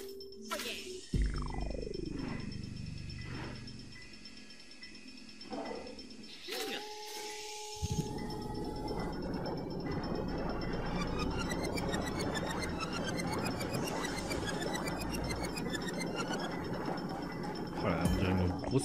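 Ghost-filled vacuum emptied into the Portrificateur machine in Luigi's Mansion: a falling swoosh, then a long mechanical whirring and rattling churn with clinking, steady and continuous.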